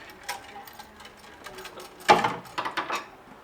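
T50 bolts are driven into a Jeep Wrangler JLU hardtop bracket with a tool. It gives a quiet ticking and ratcheting at first, then a louder cluster of sharp metallic clicks and clatters nearby.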